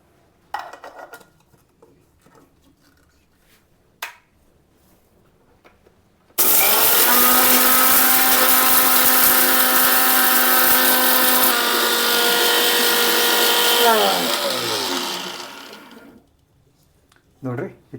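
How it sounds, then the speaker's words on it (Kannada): A kitchen mixer grinder grinds chillies and spices to a fine paste, starting abruptly, roaring steadily for several seconds, then changing pitch and winding down; brief talk and handling sounds before and after. "ಇದನ್ನು ಹಾಕ್ಕೊಂಡು ನುಣ್ಣು ರುಬ್ಕೋಬೇಕು."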